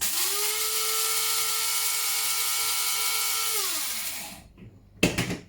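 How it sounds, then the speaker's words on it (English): An electric spice grinder whizzes two heaped teaspoons of cumin seeds with a loud, steady high whine for about four seconds, then winds down and stops, followed by a short clatter. "2 big heaped teaspoons of cumin. I'm just going to give those a whiz"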